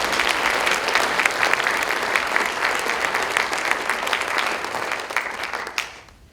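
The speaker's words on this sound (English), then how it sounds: "Let us give a warm, warm applause for Huub Mous." An audience gives a keynote speaker a warm welcome with loud, sustained applause, dense overlapping claps that carry on steadily before tapering off near the end.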